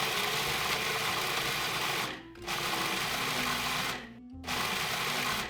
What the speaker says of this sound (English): Now you're gonna pop your lid on and pulse it until it's a nice smooth consistency.